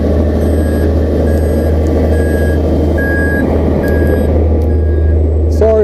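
Reversing beeps from heavy machinery, an excavator or truck, repeat at a steady pace over a loud, constant diesel engine rumble close by.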